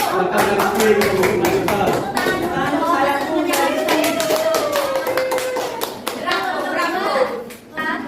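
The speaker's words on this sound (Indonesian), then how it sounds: "Ya, bagus, tepuk tangan dulu" A roomful of students in a tenth-grade madrasa Islamic jurisprudence class claps steadily for about eight seconds, with a voice talking over the sharp, closely spaced claps.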